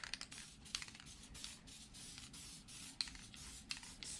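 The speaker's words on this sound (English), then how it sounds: "spray it on the whole" WD-40 Dry Lube with Teflon sprayed across the top of a Milwaukee Fuel table saw, short hissing bursts from the aerosol can with small clicks and rubbing between them, close and fairly quiet.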